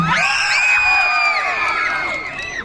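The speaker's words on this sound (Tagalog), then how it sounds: "Wala po bang hiyawan dyan?" A pageant crowd at a gay beauty contest erupts in loud whoops, screams and shouts of cheering, many high voices overlapping continuously and tapering slightly at the end.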